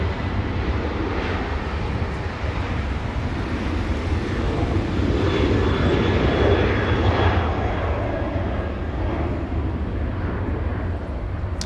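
Delta Boeing 737-900 departing Los Angeles International Airport, a steady broadband jet engine roar that swells slightly and then holds throughout, heard from a distance with no close voices.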